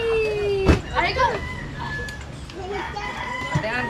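A rooster crows in a rural Philippine setting, one clear cock-a-doodle-doo standing out from scattered clucks and other fowl calls, while people chat and laugh nearby.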